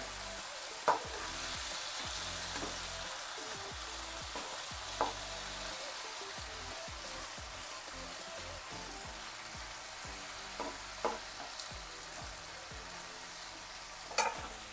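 Okra paturi fries gently in a pan with a soft, even sizzle and crackle, broken by a few faint, sharp clicks and pops, with no talking.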